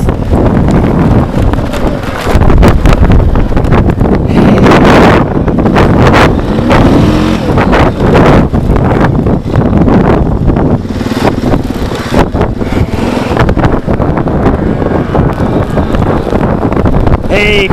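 Blizzard wind and blowing snow on an April farm: loud, gusty roaring buffets across the microphone for the whole stretch, rough and uneven, with no voices heard.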